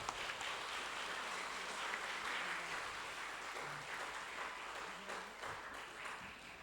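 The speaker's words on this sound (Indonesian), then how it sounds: "kita berikan tepuk tangan dulu kepada beliau sebelum kita panggil." A seminar audience at an Islamic boarding school event gives a guest speaker a steady round of applause, a soft, distant, continuous patter of many hands, fairly faint with a faint low hum underneath.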